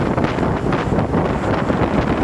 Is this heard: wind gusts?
yes